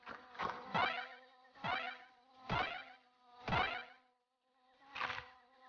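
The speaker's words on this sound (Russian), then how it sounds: "Кто этих пчел сюда вообще поставил?" Bees in DuckTales Remastered, a video game, buzz in five short repeating bursts of rising, warbling drone, each roughly a second long with brief gaps between, fairly faint and with no talking.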